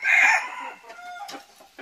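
On a mountain farm a rooster crows loudly up close, then hens cluck in soft, scattered bursts, with no talking over them.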